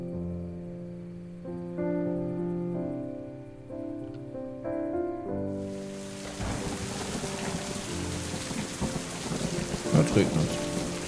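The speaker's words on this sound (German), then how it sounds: "Es regnet." Rain and thunder in the video game Mind: Path to Thalamus: after soft melodic music, a steady hiss of rainfall sweeps in with low rumbling thunder rolling underneath, growing louder toward the end.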